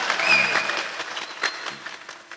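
Scattered applause from an audience at a religious gathering in a rural mountainside hall, moderately loud at first and thinning to a few claps, with faint voices underneath.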